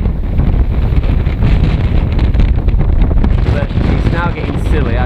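Gusts of about 25-30 mph batter an open-air microphone at an RC plane flying field, producing heavy, continuous low-pitched buffeting that swells and eases, with faint voice traces near the end.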